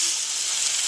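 A pork shoulder blade steak fries on a griddle, giving a steady, even sizzle with a bright hiss that holds level for the whole moment without pauses.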